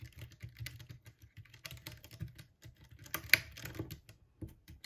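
Rapid clattery typing on an unlubed mechanical keyboard with the keycaps removed, bare switches clicking in quick irregular bursts with one sharper louder strike midway, close and dry with no talk.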